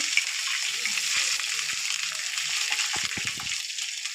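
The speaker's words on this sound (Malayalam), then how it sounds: "ഇനി ബാക്കിയുള്ള കറിവേപ്പിലയും മുളകും കൂടി ഇട്ട് കൊടുക്കാൻ കേട്ടോ അതിനുശേഷം നന്നായിട്ട് ഇളക്കി കൊടുക്കുക" Urad dal, curry leaves and chillies sizzle steadily in hot oil in a pan, a continuous loud frying hiss with a few scraping stirs of a spoon near the end; no talking.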